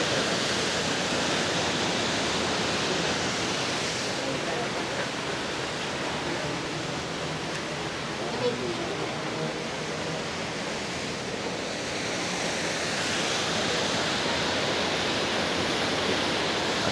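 Randha waterfall roars in a continuous, dense wash of falling water that stays loud and unbroken throughout, with no other sounds rising above it.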